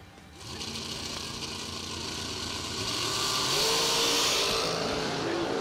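Drag racing cars launching down a drag strip side by side from the starting line, heard as a sustained, loud engine roar that builds and rises in pitch as they accelerate away, with no talking.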